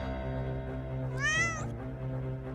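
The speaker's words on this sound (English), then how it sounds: "Meow." A cat in a visual novel video game gives a single clear, rising meow of about half a second. It sits over steady, humming background music.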